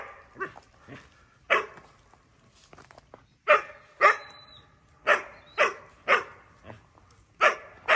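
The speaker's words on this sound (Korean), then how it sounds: "선이가 짖는 거 빼고요" A dog barks on a quiet winter morning at a dog training school in Yangpyeong, a string of sharp, fairly loud barks with a few softer yips, coming in irregular bursts with short pauses between them.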